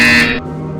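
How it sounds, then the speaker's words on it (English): A short electronic buzzer in the VR game Portal Stories sounds as one loud, harsh burst lasting under half a second, then cuts off and leaves a low background hum. "When you hear the buzzer, turn around and face the server farm behind you."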